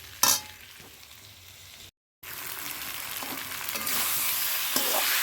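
Boiled potatoes frying with onion in a pan tempered with cumin, bay leaf and dried red chilli, a steady sizzle with scraping stirs, a brief cut to silence, then a louder, brighter hiss; no talking.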